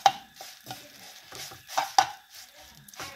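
Mustard seeds, asafoetida and curry leaves frying in a little oil, soft sizzling broken by several sharp clinks and taps of a stirring utensil against the pan, close and fairly quiet, no voices.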